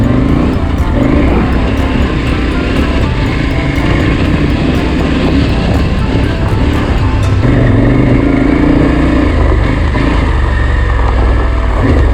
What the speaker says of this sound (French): Tu arrives là-haut et là ça se met à patiner, la moto elle est là, elle cherche.